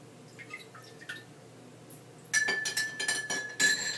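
Unfiltered organic apple cider vinegar is poured into a glass, starting with faint drips and then turning into a quick run of bright clinks and splashes against the glass.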